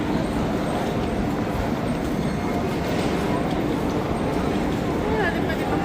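A metro train runs through an Antwerp station, a broad steady rumble of wheels and hum that holds level throughout, with a voice talking over it.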